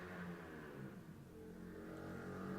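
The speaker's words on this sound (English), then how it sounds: "as a nice big revving motorbike goes by" A big motorbike revs as it passes, its engine note faint and distant, droning steadily and then climbing slightly toward the end.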